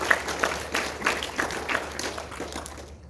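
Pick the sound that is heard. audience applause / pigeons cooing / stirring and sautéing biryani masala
audience applause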